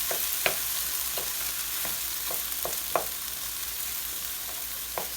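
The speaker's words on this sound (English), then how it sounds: "all we're going to do is just mix this around until it's hot" Sweet potato hash with corn frying in a pan under a low, steady sizzle, with several light scrapes and knocks of a spatula as it is stirred.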